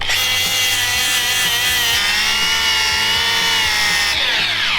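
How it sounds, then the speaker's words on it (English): A Bosch angle grinder with a Sia abrasive disc grinds metal on a Dodge Hellcat rebuild, producing a loud, continuous high-pitched whine with harsh scraping texture, close-up and sustained without a break. "that's our new Sia abrasives, grinder disc, and our Bosch grinder"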